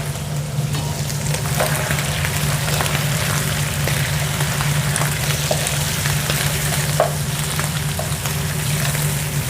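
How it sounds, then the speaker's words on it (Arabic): Liver frying in natural fat in a pan, with a steady loud sizzle and crackle and small pops throughout, close by, with no voices. "ننزل الكبدة الآن والكبدة استواء سريع"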